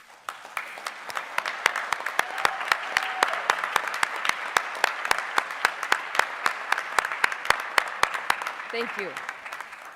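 Sustained audience applause for nursing graduates standing at a technical college commencement, a steady wash of many hands clapping with sharp louder claps scattered through it, with a brief spoken thank-you near the end.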